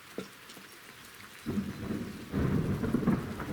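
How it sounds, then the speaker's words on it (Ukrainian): A thunderstorm with steady rain and thunder: soft rainfall throughout, then a deep rolling thunder rumble starts about halfway and swells into a louder, closer crash, with no voices. "воно ще й молнії і грім"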